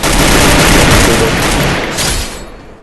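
Gunfire in a battle royale video game bursts out as a dense, loud volley of rapid shots that fills the moment and tails off toward the end.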